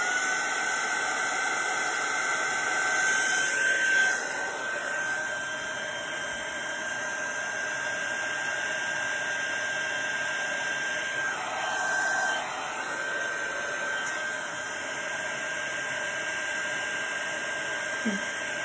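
A heat tool blows a steady whooshing, high-pitched whine as it dries Brushos colour on a card, continuous and close with slight shifts as it moves.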